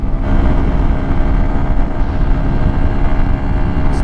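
2023 Honda XR150L dual sport motorcycle engine climbing a hill in fourth gear at around 50 mph, a loud continuous drone with wind rush throughout, no talk.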